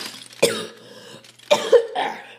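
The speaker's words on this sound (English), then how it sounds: "Oh, felt a cough coming on." Two separate coughs about a second apart, the second followed by a short throat-clearing rasp, close and fairly loud with no talking.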